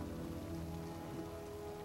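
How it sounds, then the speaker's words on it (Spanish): Steady rain patters down on a surface, a constant dense hiss with no voices. "Está lloviendo, corre."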